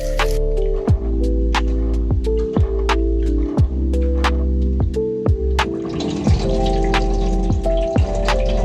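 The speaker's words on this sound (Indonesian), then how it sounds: "Kemudian cuci sampai bersih dan tiriskan." Soybeans being washed in water for tempeh, with repeated splashy drips and pours at a close, loud level, scattered strikes every half second or so over a steady watery wash, without any speech.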